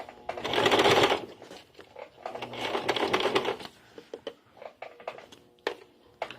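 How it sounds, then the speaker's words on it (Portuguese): Sewing machine stitching bias binding on small fabric organiser bags, two bursts of rapid mechanical stitching separated by slower needle runs and clicks, close and clear. "E eu sigo com a costura segurando essa dobra aqui."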